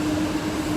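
A local commuter train rolls along at speed, heard from inside the carriage as a steady, loud rumble with a sustained hum and no talking.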